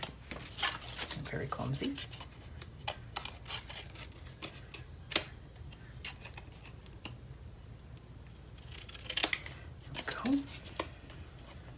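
Scissors trimming paper pieces for a mini album, heard as scattered crisp snips and paper rustles, close by, while a person talks now and then.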